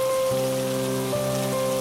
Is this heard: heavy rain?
yes